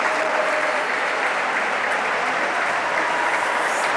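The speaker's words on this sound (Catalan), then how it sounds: "Un fort aplaudiment per a tots aquests xics." Spectators at a handball club's season team presentation applaud the boys' youth squad, a dense, steady wash of clapping at fairly strong level that runs unbroken from start to finish.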